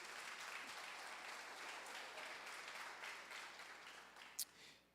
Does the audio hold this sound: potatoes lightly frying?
no